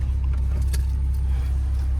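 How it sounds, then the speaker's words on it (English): Keys drop inside a Toyota Supra with one brief, light metallic clink, heard over a constant low engine rumble from the car. "Keys fell, but I don't know where"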